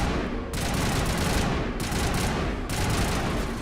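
Video game gunfire in Renegade, continuous dense automatic bursts broken by two brief pauses, loud and close, with no voices.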